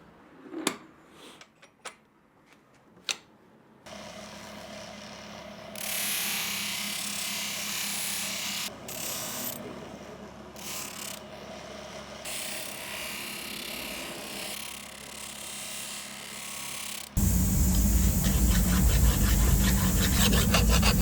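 A sanding machine fitted with a paper buff smoothing a small workpiece, a steady loud whirring grind that stops and restarts, rising to a harsher, louder pitch near the end, after a few light handling knocks at the start.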